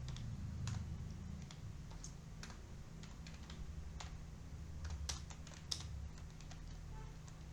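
Code being typed on a computer keyboard, with a quick, irregular run of close key clicks and taps over a low steady hum, no voice heard.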